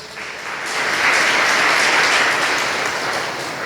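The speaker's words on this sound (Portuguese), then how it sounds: "e vamos aplaudir o Senhor bem forte" Strong applause from a church congregation in Codó, Maranhão, a broad wash of clapping that swells in and holds loud and steady for several seconds without speech.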